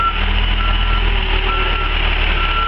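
Repeated reversing beeps from a truck hauling away street debris during a municipal cleanup, steady and fairly loud over a low idling diesel engine rumble.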